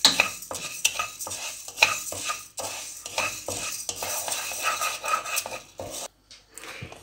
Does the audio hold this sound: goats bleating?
no